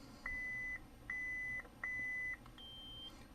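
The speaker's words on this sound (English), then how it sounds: "That's the beep that lets you know you're at full volume." A Neopixel lightsaber gives three steady electronic beeps of equal length, evenly spaced, followed by a single higher-pitched full-volume confirmation tone that holds briefly, clear against a quiet background hum.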